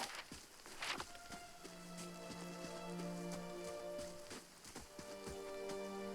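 Steady rain falling in the Pillars of Eternity game world, a continuous soft patter with scattered droplet ticks. Faint tonal ambient music sits underneath.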